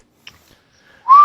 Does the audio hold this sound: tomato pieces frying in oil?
no